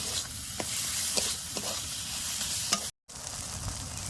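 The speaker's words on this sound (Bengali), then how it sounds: "দেন চারপাশ থেকে তেলে চিরিমিরি করা যাচ্ছে মানে মশলাটা আমার সুন্দর করে কষানো আছে" Finely chopped tomato and spices fry in oil in a pan, making a continuous close sizzle with repeated stirring scrapes and a brief gap near the end.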